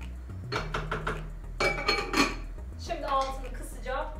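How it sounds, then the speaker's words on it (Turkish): A spoon stirs meat and pea stew in a metal pot, giving several clattering scrapes and knocks against the sides in short bursts, close and fairly loud, with a voice speaking. "Şöyle bir karıştıracağım."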